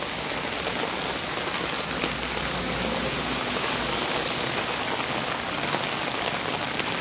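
Heavy rain pours down steadily as a dense, even hiss with no breaks, drumming on surfaces during a downpour that floods the roads in Chandra, Kaliakoir, Gazipur.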